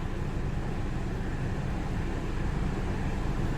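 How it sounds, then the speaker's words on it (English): A car air-conditioning compressor running continuously, heard as a steady, dense mechanical hum and whir with no pauses, close up and without any talk. "but the compressor's on all the time right now."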